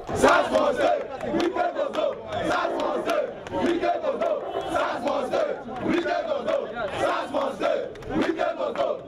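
A crowd of protest marchers heading to a Rivers State police headquarters shouts and chants in loud rhythmic surges, many voices rising and falling together close by.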